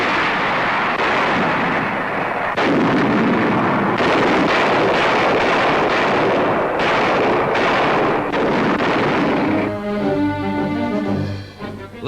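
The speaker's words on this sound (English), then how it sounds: "Now Manus, largest of the group, with Los Negros at the tip, is shelled by American warships." Naval gunfire from American warships shelling Manus island in the Admiralties, 1944, comes as a continuous roar of heavy booms and rumbling blasts. Music rises near the end.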